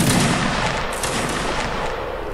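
A line of soldiers fires a musket volley in a Napoleonic Wars battle game, a loud crackling burst of overlapping shots at the start that rolls on and fades into a long rumbling echo.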